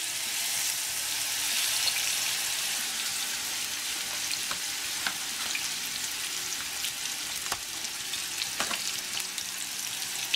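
Pork chops frying in hot oil give a steady, dense sizzle with crackling pops scattered throughout, close and continuous with no talk.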